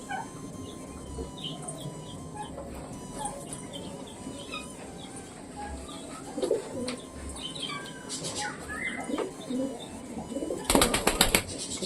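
Pet birds in a coop chirp and coo, with soft repeated coos and scattered chirps throughout and a burst of louder, busier calling near the end.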